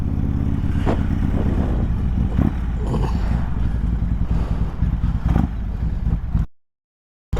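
A 1994 Harley-Davidson Road King motorcycle rumbles steadily while riding and turning around, its low engine throb and clattering loud and close, with a few swells in revs before cutting out near the end.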